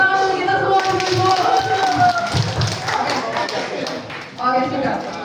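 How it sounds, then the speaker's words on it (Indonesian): A group at a Red Cross volunteer training session claps together, a quick run of close, uneven hand claps with people talking over and around it, fading briefly before a final burst. "tepuk tangan untuk kita semua dulu"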